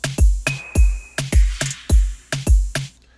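Rim shot drum pattern programmed in Soundtrap for a groove: about eight sharp, clicky hits with short low thumps, in a steady syncopated loop, loud and close, with no voices.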